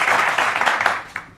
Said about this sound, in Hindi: इसके लिए वाकई जोरदार तालियां आपके